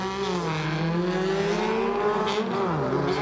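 A Volkswagen drag racing car at Santa Pod Raceway revs loudly and steadily down the strip, its engine note climbing and shifting across the run, continuous and close without any talk.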